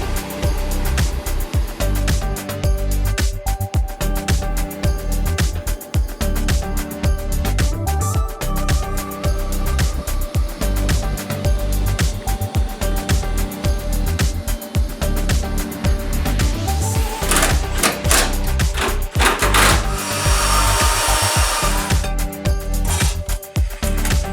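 TIG welding thin mild steel turbo piping for a Camaro Z28, a steady loud electric buzz and hum with a constant crackle running unbroken for over twenty seconds, brightening to a harsher hiss near the end.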